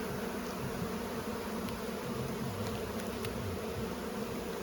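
Honey bees hum around their hive in Ontario, a dense, steady buzzing swarm heard up close with no voices over it.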